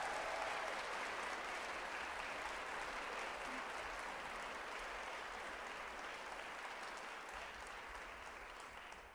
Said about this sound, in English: Can we give both of our groups one more round of applause